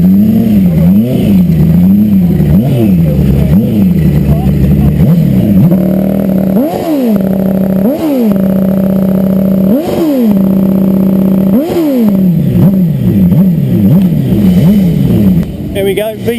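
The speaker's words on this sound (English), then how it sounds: "Oh dear, it's a Ford engine, I'm wrong." Ford engine revving at an outdoor motorcycle show, loud and close, with repeated sharp throttle blips rising and falling over a steady idle while people chat nearby.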